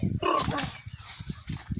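A dog gives a few short barks and yips at close range, followed by rapid rhythmic panting or huffing sounds.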